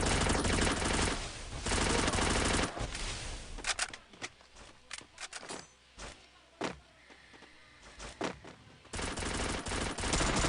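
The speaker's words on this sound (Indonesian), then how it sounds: "terjadi atau terdengar suara tembakan" Gunfire in the Free Fire battle royale game, loud rapid bursts of automatic shots at the start and end with scattered single shots and clicks between.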